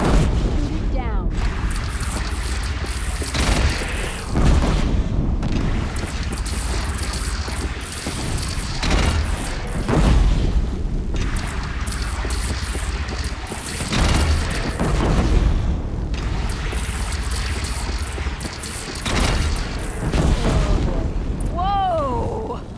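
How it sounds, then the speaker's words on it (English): In the Horizon Zero Dawn video game a bridge collapses and explodes, heavy booms and rumbling blasts recurring every few seconds over a busy battle soundscape, with voices talking throughout. "Bridge is coming down."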